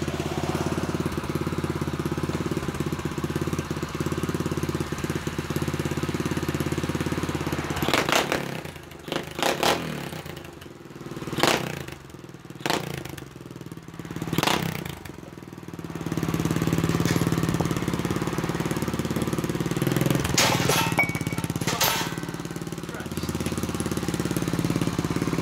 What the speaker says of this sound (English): Might ride it down the driveway or something and ride a little wheelie up